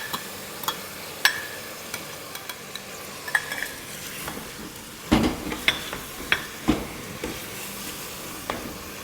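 Onion and yogurt sizzle in a hot pan while a spoon stirs and scrapes in irregular strokes, with a steady frying hiss beneath close clatter, tested in a new pressure cooker.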